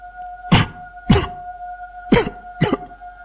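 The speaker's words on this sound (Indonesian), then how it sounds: "Suara batuk itu terdengar lagi" Four distinct coughs, close and loud, come in an uneven sequence with short silent gaps between them over a faint steady electrical hum.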